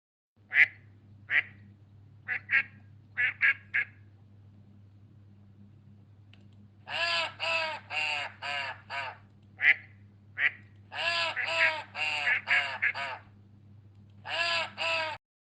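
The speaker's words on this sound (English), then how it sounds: "Duck." Cartoon duck quacks in a children's farm-animal learning game, a few short single quacks followed by several loud rhythmic bursts of repeated quacking, over a steady low hum with no talking.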